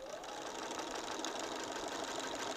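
A sewing machine quilts layers of a vest in a steady, continuous whir, close and fairly quiet, running without pause and with no talking over it.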